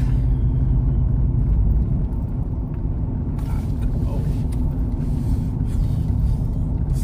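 A car heading to a drive-thru gives a loud, steady low engine and road rumble from inside the cabin, with faint clatter and murmuring in the background.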